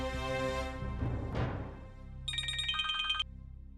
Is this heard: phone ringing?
yes